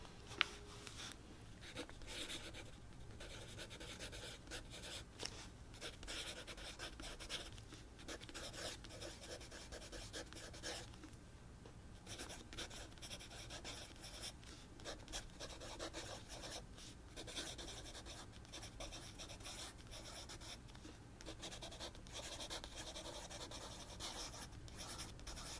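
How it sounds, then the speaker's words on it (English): A pen scratches steadily across paper while a gift list is written out from a beauty catalog, a continuous close, soft rasping with small pauses between strokes and no talking. "So let's go ahead and write that down on our list for the gifts for others."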